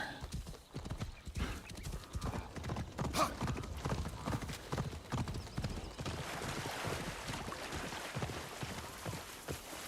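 A horse gallops in the video game Assassin's Creed Shadows, with steady rapid clip-clop hoofbeats and a brief whinny, loud and continuous across a dense game soundscape.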